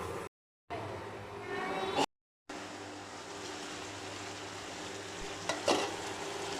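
Chicken coated in masala cooks in a covered pan, a soft steady sizzle and bubbling with brief clatters of the lid or utensil, fairly quiet and without talk.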